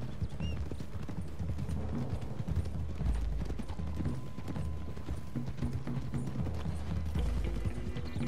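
Horses galloping along a road in Red Dead Redemption II, a dense rapid clip-clop of several sets of hooves running steadily and close throughout with faint mechanical rattle and no speech.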